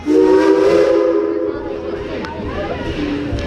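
A coal-fired steam locomotive on the Tweetsie Railroad sounds its whistle: a loud, close, chord-like blast holding for about a second and a half, then tapering off into steam hiss and rumbling train noise.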